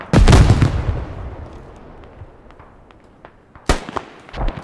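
A sharp gunshot from a marksman rifle in the military shooter SQUAD cracks loudly and echoes away, followed by a second close crack a few seconds later.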